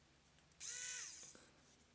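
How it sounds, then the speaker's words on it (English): A small electric screwdriver from a 69-in-1 set spins up under a light press, giving a short high-pitched motor whine that rises and then fades over about a second in a quiet room. "just a light press will do on the electric screwdriver"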